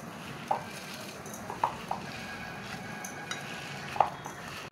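Crumbled roti mixed by hand with sugar and hot ghee in a kitchen, giving a soft continuous stirring rustle with a few light clinks of a utensil against the bowl, close and fairly quiet, with no talking.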